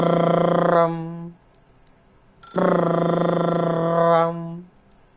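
An old-style telephone bell rings loudly in The Stanley Parable video game, two long trilling rings separated by a pause, alone with no talking.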